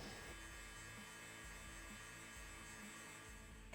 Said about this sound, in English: we have to heat this up with the heat gun